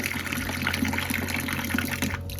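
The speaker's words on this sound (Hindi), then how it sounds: "तो मैंने अपने लिए कर लिया है गर्म पानी, तो मैं आराम से पहले पी लूँगी तसल्ली से पानी गरम गरम" Hot drinking water pours steadily from a tap or spout into a vessel in a home kitchen, a continuous close gushing splash lasting a couple of seconds with no talking.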